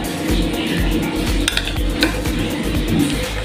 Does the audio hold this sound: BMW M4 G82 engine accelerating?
no